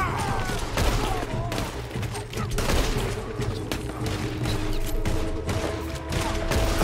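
Rapid, dense gunfire in a Red Dead Redemption 2 sugar factory shootout, steady and loud throughout with sharp cracks over a continuous low rumble, while players talk over it.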